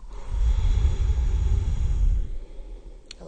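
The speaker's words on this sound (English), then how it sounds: "putting the tongue at the top of the mouth and breathing in." A close, breathy inhale drawn with the tongue pressed to the roof of the mouth makes a soft rushing throat sound lasting a couple of seconds before fading out.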